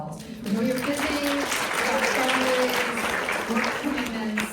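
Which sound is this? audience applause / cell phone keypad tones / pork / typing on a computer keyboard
audience applause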